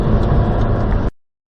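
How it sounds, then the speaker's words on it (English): A very noisy tractor's loud, steady engine roar rumbles close by, then cuts off abruptly into silence. "passing a very noisy tractor"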